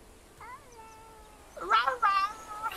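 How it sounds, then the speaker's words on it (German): A cat in the medieval village game Bellwright gives a soft, drawn-out meow, then two louder, closer meows in quick succession over a quiet background. "Die Katze ist ja süß."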